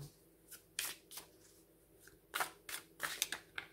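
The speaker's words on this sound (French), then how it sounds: "la dernière carte que je vais tirer, donc c'est la carte de Oracle des Astres" Cards being drawn and handled from an oracle deck, giving a series of short, crisp papery slides and snaps spaced irregularly, close and fairly quiet with no talking.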